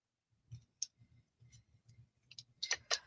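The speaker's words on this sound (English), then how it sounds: "So I'll take my scissors" Quiet, crisp snipping clicks come in a loose series of about a dozen close-up cuts, growing slightly busier toward the end.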